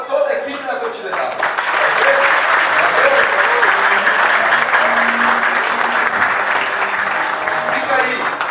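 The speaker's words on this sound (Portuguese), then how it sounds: "tá realmente um belíssimo aplauso para toda a equipe da Continental" Applause for the Continental team at a listeners' award ceremony, a seated audience clapping steadily and loudly for several seconds, with voices mixed in.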